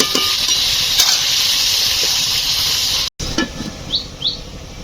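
Duck curry sautéing under a repeatedly lifted lid in a pan, with a steady broad sizzle and stirring scrapes throughout, a brief cut of silence near the end, then softer frying with a couple of faint chirpy squeaks.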